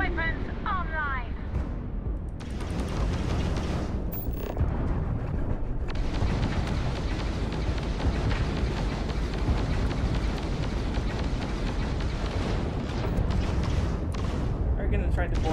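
Starship weapons from the Starfield space game fire in a dense, continuous barrage of heavy booming blasts after a brief opening burst, loud and close, with voices cutting in at times.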